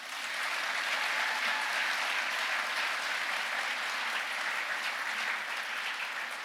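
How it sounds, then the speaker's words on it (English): Sustained audience applause at an evening banquet, a dense wash of many hands clapping steadily throughout, filling the room at an even level with no voices standing out. "a big round of applause for all of our providers"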